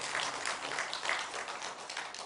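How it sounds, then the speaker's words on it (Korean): Church congregation applauding together, a steady broadband patter of many hands clapping for the full stretch at moderate loudness with no voices on top. "저 2층에 계신데 우리 박수 한번 해주시고요"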